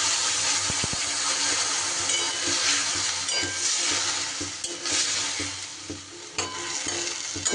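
Chutney with dried mango pulp is stirred in a hot pan, giving a loud steady sizzle with a hiss of steam and irregular scraping strokes of a spoon, close up and with no speech.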